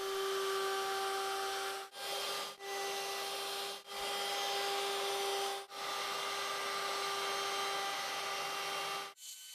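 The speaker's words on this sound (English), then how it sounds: "After the 80 grit fiber disc, I go down to 180 and finish it with 220." An 80-grit fiber disc sands an ash wood cutting board, producing a steady, fairly quiet abrasive whir with a constant tonal hum, broken by several short dips as the sander lifts off and returns.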